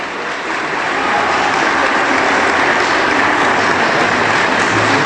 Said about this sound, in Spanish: Dolores Padierna Luna, a quien recibimos con un aplauso lleno de respeto.